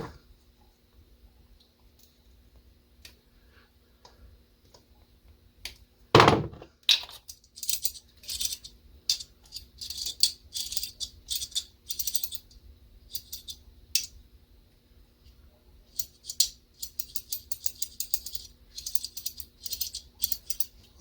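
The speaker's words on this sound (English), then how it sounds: "Not making much of a clicking sound, is it?" A vintage Zebco spincast fishing reel's drag clicker, on a reel being serviced, gives sparse light clicks at first and then quicker rattling bursts of clicking, close by, with no talk.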